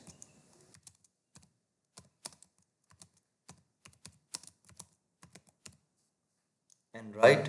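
Computer keyboard typing while working in AutoCAD: a sparse run of quiet, close key taps in small uneven clusters, followed at the end by a brief burst of speech.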